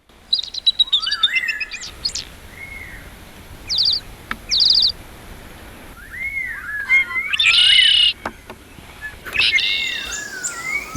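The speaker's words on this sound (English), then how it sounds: "The gray-crowned crochus lives in small groups, but moves like one united team, always moving, always calling." Gray-crowned crocias calling in forest, a series of bright whistled and chirping calls in short bursts, some overlapping, with steady forest ambience between them and no talking.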